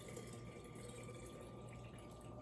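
Water runs steadily into a jar of soil, a faint continuous rushing with no breaks or voices.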